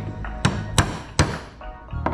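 A hammer smacks a welded window regulator from a Ford Fairlane: four sharp metallic blows at uneven intervals, close and fairly loud, over a quiet workshop background.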